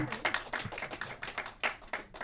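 A church congregation gives a brief burst of clapping, a quick patter of hand claps lasting about two seconds, fairly faint.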